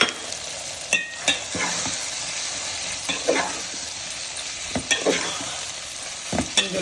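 Taro pieces fry in a pan with ginger-garlic paste and turmeric, giving a constant close sizzle broken by occasional scrapes and knocks as they are stirred.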